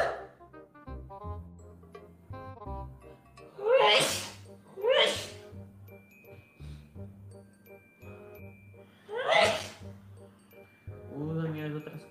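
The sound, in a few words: sneezing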